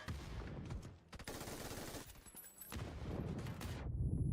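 MG3 machine gun fire in a competitive video game match, a dense, rapid stream of loud automatic shots with short breaks between bursts, close and filling the mix.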